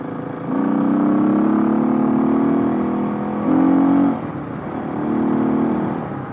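Kawasaki KLX 351 motorcycle fitted with a big bore kit, its engine held at a steady rev during break-in, swelling briefly with a short throttle blip and easing back, loud and close with no talk.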